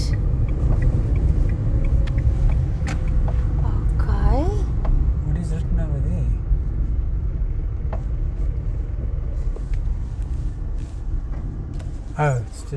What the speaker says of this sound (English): It's just very difficult with so many cars and people.